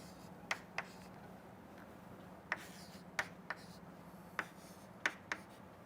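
A diagram being drawn by hand on a board, scattered sharp ticks and taps from the pen or chalk over a quiet background hum, irregular and close.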